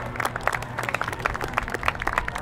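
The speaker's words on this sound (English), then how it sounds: "Let's give them one big round of applause one more time," An outdoor air show crowd at a Canadian Armed Forces Day event applauds the Northern Stars three-plane Pitts aerobatic team, with dense, steady clapping from many people and a low rumble running underneath.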